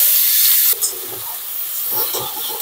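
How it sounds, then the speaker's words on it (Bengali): Cardamom, cloves, chopped onion and garlic hit hot oil with a sudden loud hissing sizzle that then settles into a steady, softer crackling fry close by, with no voices. "এই তেলের মধ্যে ফোড়ন দিয়ে দিচ্ছি, এলাচ লবঙ্গ পেঁয়াজ রসুন কুচিয়ে রেখেছি"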